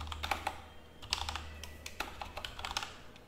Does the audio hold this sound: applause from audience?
no